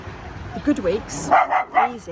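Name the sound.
dog barking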